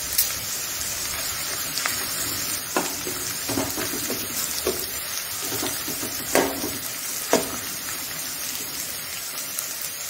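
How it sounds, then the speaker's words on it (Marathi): Ginger garlic paste sizzling in oil with golden onions for masala bhindi, a steady crackling fry with a few sharper pops and stirring scrapes, close and continuous with no talking. "आता यात घालूयात एक चमचा अद्रक लसणाची पेस्ट।"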